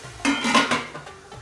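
A cooking pot covered and stirred during saag gosht preparation: a few close metallic clinks and scrapes of lid and spoon against the pan, clear and alone without talk.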